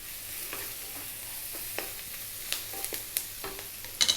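Onions frying in a pan for an Indian vegetarian rice dish, a steady soft sizzle with occasional sharp crackles and spatula clicks that grow louder near the end.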